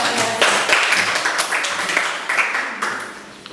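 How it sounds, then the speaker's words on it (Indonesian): Classroom clapping from a group of students after a presentation, a dense patter of many hands at close range, steady for a few seconds with uneven peaks and no talk over it. "Ya, tepuk tangan dulu"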